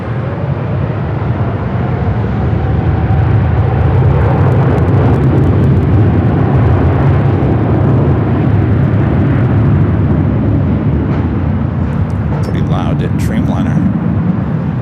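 A Boeing 787 Dreamliner jet at LAX produces a loud, sustained low roar of engines that fills the whole stretch, steady and near, with faint radio chatter over it late on.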